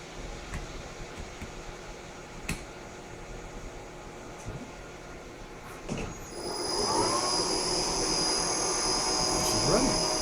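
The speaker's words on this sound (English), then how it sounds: "let's set the RPM at 500" A Bridgeport Romi EZ Path S lathe spins up to 500 RPM, a steady mechanical hum and whine rising after a few seconds with faint clicks, while a person talks nearby.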